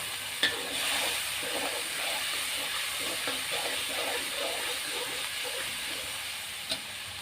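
Red curry paste with pounded bird's eye chili and garlic stir-fries over fairly high heat, giving a soft continuous sizzle with faint scraping stirs and two small clicks of a utensil, no talking.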